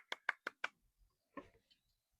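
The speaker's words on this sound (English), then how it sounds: "Can we have a little clap for Kimber?" A small, brief round of hand claps for a window cleaner named Kimber, four quick, close claps in an even rhythm followed by a couple of softer stray claps and light handling noise.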